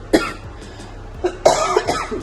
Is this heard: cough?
yes